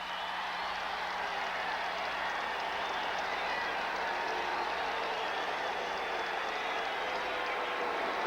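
A capacity crowd roars at a 1986 LA Raiders home football game against the Denver Broncos after a blocked field goal, a steady, dense wash of cheering that holds without letup.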